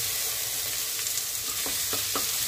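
Chopped onion, ginger and garlic fry together in hot oil for vegetable thukpa, making a steady close sizzle with a few light stirring taps near the end.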